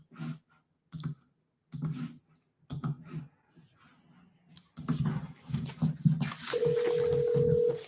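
A phone call is dialed: several short clicking bursts spaced about a second apart, then a denser run of clicks and a steady tone near the end, close and moderately loud.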